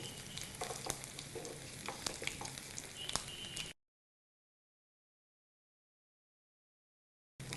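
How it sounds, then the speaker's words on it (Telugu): Curry leaves frying in hot oil for a tempering, a loud close crackling sizzle with sharp pops and stirring clicks that breaks off abruptly into silence, then returns briefly at the end. "కరివేపాకు వేసిన తర్వాత లైట్ బ్రౌన్ కలర్ వచ్చేంత వరకు దీన్ని వేగనిచ్చి"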